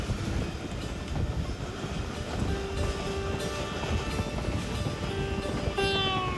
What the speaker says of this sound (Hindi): धक धक करती पटरियों का वो सदा देना